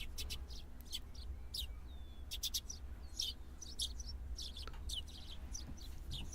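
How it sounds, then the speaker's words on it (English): Small birds chirp and tweet in short, bright bursts over a steady low background hum in a Higurashi When They Cry game scene, the calls faint and scattered, with no talking. "The chirping of the bird served as an alarm clock."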